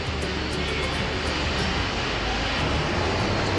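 A 123cc engine fitted to a vehicle converted into a rickshaw runs with a loud, continuous, even drone close by, with no pauses and no one talking.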